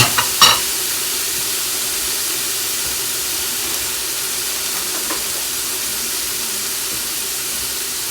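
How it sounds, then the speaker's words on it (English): Frozen chopped peppers sizzle loudly in a hot pan, with a couple of sharp stirring clatters at the start before a steady, hissing fry carries on alone. "Going to give those a quick stir."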